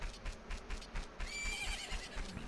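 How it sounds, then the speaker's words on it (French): Epona, the horse in Zelda Majora's Mask, gives a whinnying neigh over a rhythmic clip-clop of hooves, game audio heard fairly quietly. "On dirait ton cheval!"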